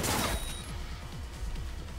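A loud burst at the start, like a gunshot in the Cyberpunk 2077 video game as an enemy shoots himself, followed by a rumbling, mechanical rattle trailing off.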